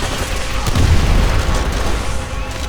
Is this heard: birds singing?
no